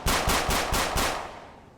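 Automatic gunfire in a Roblox game: a rapid burst of about five loud, evenly spaced shots, then a short fading echo, with no voices.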